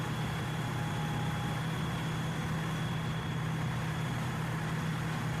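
Steady whirring engine drone of a vehicle in War Thunder, a futuristic, cartoon space-car-like hum with a thin high whine, continuous and fairly loud throughout with no talk.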